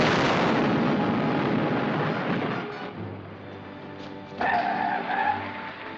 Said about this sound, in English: Wasn't that an explosion?